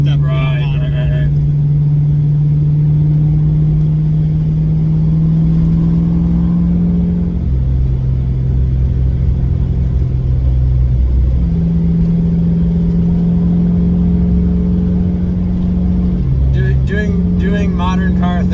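A 1988 Ford Mustang Foxbody engine holds a steady loud drone that rises through each gear, with a shift near the middle and another late on, under continuous talk from people in the car.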